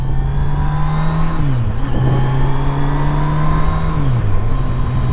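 A Yamaha FJR 1300 motorcycle engine pulls loud and close at about 4,000 to 5,000 rpm, a steady droning roar with a couple of brief dips in pitch, and no talking over it.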